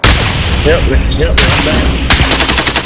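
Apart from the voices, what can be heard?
gunfire in the video game Call of Duty: Modern Warfare Warzone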